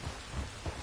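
Steady rain hisses throughout a brief stretch of Red Dead Redemption 2, with low thunder rumbling underneath in a few soft swells, and no voices.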